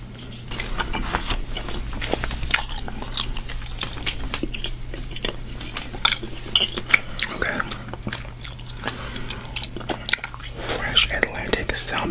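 Someone chews gum close to the microphone in an ASMR-style recording, producing soft wet smacks and clicks, with page-flipping rustles and quiet whispered talk over a faint low hum.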